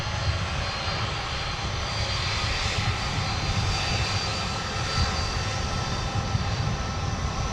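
Aircraft engines roar at Minneapolis-St Paul airport, a loud, steady, unbroken wash of engine noise near the runways with no talk.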